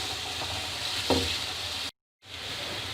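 Potatoes fry in oil in a pan for an Afghani egg, potato and tomato omelette. A constant close hiss and sizzle is broken by one soft stir and then cuts out for a moment.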